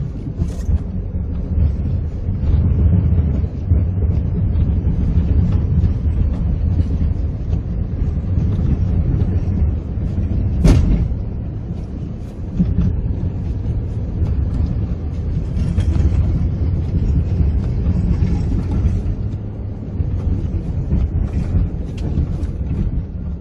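Small bus fitted with a plow clearing heavy snow, a continuous low engine rumble with wind buffeting heard from nearby, a sharp knock midway and a slight dip in loudness afterward.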